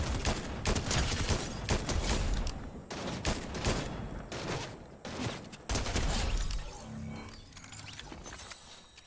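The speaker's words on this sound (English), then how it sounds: "Big shotgun." Rapid bursts of gunfire in a Fortnite match, including shotgun blasts, crack out in dense clusters and then fade into a quieter tail with sparse shots.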